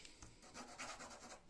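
A razor-sharp Leatherman Wave Plus knife blade cuts into a pencil, giving a quick run of close, dry scraping and rasping strokes that pulse irregularly for a second or two.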